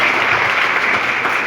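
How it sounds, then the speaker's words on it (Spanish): Brief burst of audience applause at a master class on ethics, dense clapping heard up close for just over a second. "Aplauso para nuestra lectora,"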